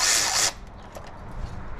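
A power tool bites on bolts during engine work on a Lexus IS F, giving one loud, harsh half-second burst that cuts off abruptly, leaving quiet workshop background.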